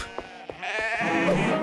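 A sheep in an animated children's show bleats loudly and close, a drawn-out wavering cry following a few short clicks and knocks.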